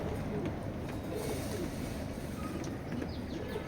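Racing pigeons of a foreign bloodline coo softly in a loft, a steady low murmur of several birds over constant background hiss, with no clear talk.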